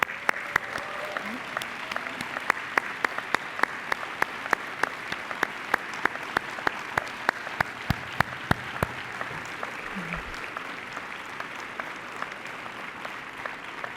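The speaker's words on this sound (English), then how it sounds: "May I please have all of the finalists stand for a well-deserved round of applause." An audience at a graduation and chapter awards ceremony applauds steadily for the whole stretch, with many hands clapping at moderate volume and a few sharper claps standing out near the middle.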